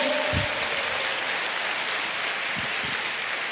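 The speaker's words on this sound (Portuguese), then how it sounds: "Pode aplaudir, pode expressar" A church congregation applauds during a sermon, producing a dense, even wash of many hands clapping at once, sustained at a steady moderate level, with a couple of brief low thumps.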